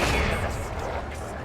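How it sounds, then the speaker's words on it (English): Cannon fire in the Total War video game with the BOTET mod, heard as a dense rumbling barrage of booms that blurs into continuous battle noise, loud and sustained. "They literally shot with the damn cannons again."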